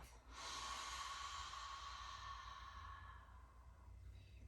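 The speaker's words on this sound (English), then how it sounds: "Exhale through your mouth." A single long exhale through the mouth during pranayama breathing practice, a soft, steady airy hiss that holds for a few seconds and then slowly fades, close and quiet with no talking.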